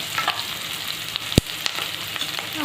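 Onions and cumin seeds frying in about three spoons of hot oil give a steady close sizzle and crackle, with a sharp utensil knock against the pan partway through.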